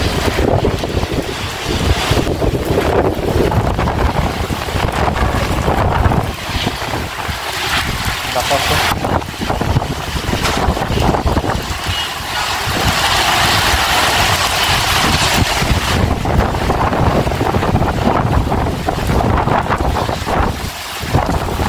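Night rainstorm with strong wind, a loud unbroken roar of gusts buffeting and battering, with a door pounding in the wind.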